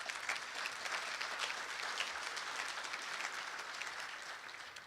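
An audience at a business luncheon claps in a dense, sustained round of applause that holds steady for several seconds and eases slightly at the end, with no voices.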